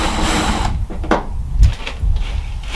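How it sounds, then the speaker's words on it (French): Cordless drill-driver with square bits backing screws out of wood panelling inside a van, a short whirring motor burst followed by clicks and scraping handling noises, close and fairly loud with no talk. "Je vais utiliser une visseuse dévisseuse et des embouts"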